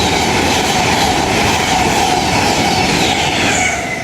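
An LNER Azuma passenger train on the East Coast Main Line at Retford, passing close and loud with a continuous rushing rumble and faint wheel clatter, easing slightly at the end.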